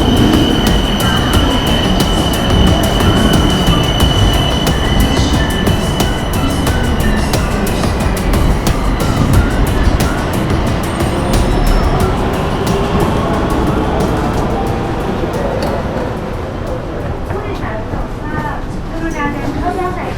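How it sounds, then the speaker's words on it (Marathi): A Bangkok BTS Skytrain metro train pulls into an elevated Sukhumvit Line platform, with loud rolling rumble, rattling wheel clicks and high squealing that eases off as it slows, while voices murmur in the background. "ही आपली BTS आलेली आहे."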